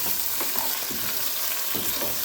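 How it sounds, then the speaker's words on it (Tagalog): Squid frying in a pan with garlic and onion while being stirred, a bright continuous sizzle with scraping stir strokes cutting through, close and alone. "Halu-haluin lang po natin hanggang sa na-fry siya."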